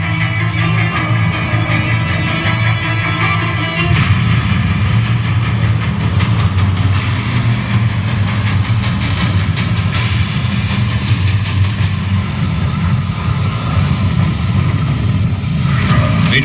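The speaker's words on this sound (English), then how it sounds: "Look overhead to your right and you'll see the 4-engine C-130J Super Hercules inbound for landing." A four-engine C-130J Super Hercules turboprop flies in overhead to land at a Rhode Island air show, a loud, steady, continuous engine drone with a deep low rumble that swells slightly partway through, with no talk over it.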